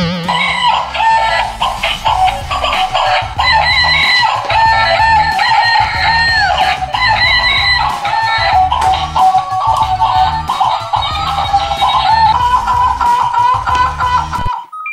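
A chicken toy at a children's game center gives out repeated clucks and crowing calls over a loud, steady, rhythmic musical backing that plays without a pause.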